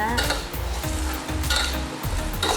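Mushrooms and celery stir-frying in a hot pan, a continuous loud sizzle with repeated scraping stirs of the spatula, no talking.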